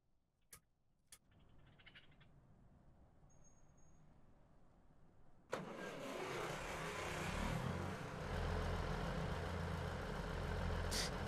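A diesel train engine on the Midland Main Line in Train Sim World 3, heard from outside, starts with a sharp burst after faint clicks and quiet hum, then roars loudly and steadily, building slightly over several seconds.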